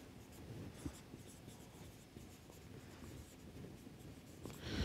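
Writing during a lecture: soft, faint scratching strokes in a quiet room, with no one talking.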